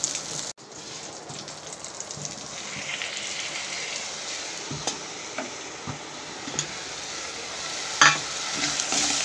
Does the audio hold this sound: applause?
no